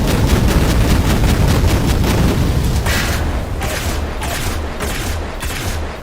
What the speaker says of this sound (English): So with all these explosions going on, can you still hear me with the Devastator?